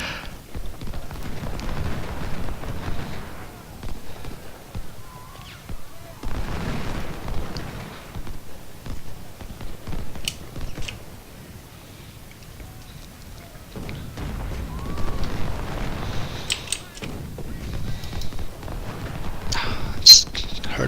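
Scattered booms and heavy rumbles of cannon fire in a Battle of Bull Run strategy game, coming in several separate bursts with quieter gaps between them and a sharper crack near the end.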